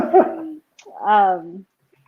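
A dog whimpers and cries at a door, a short whine followed by a longer, rising tonal whimper, close and fairly loud with brief quiet between.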